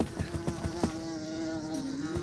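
Insects buzz loudly and close in the No Clip VR video game, a sustained droning whine with rapid fluttering pulses and no talk over it.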